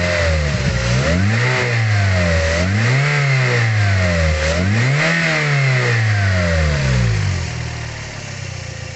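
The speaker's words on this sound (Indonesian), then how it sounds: "Kita gas sampai RPM 3000 ya." A used car's engine is revved by a throttle blip up to about 3000 RPM to check for knocking, rising and falling in three or four strong swells over a steady idle, loud and close, with no voices.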